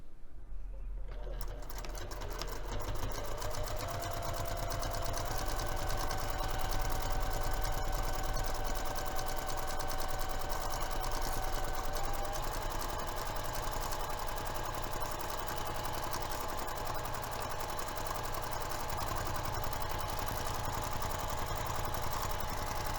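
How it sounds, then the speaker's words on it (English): A sewing machine stitches a pinned fabric edge with a half-inch seam allowance for a messenger bag, a steady close whirring hum that runs continuously, its pitch shifting slightly partway through. "we're going to be sewing this pinned edge using a 1/2 inch seam allowance"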